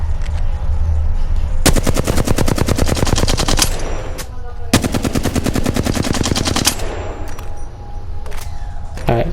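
Automatic weapon fire in Apex Legends during aim practice: two long, rapid bursts of loud, evenly spaced shots, each lasting about two seconds, separated by a brief pause and followed by quieter game ambience.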